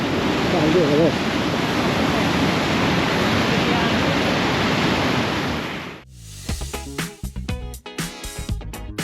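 A waterfall roars as a loud, dense wash of rushing water for about six seconds, then cuts abruptly to quieter sounds with sharp bursts.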